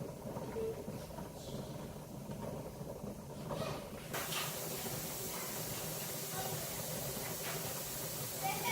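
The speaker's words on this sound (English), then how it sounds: "It's just a steady puff of the steam." A pressure canner full of home-canned mushroom jars vents a steady puff of steam, a faint continuous hiss that turns brighter and fuller partway through, under low background noise.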